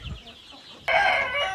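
A Black Australorp chicken on a farm in India lets out a sudden, loud, close cluck that breaks out after a near-silent moment and holds briefly before fading.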